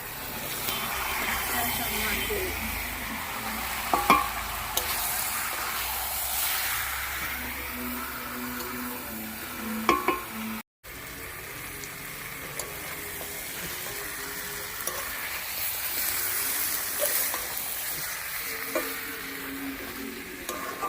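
A spiced curry base with chili powder cooks slowly in a pan on a rooftop in winter, a steady sizzle broken by spoon stirring and scraping, with voices talking over it and a brief dropout midway.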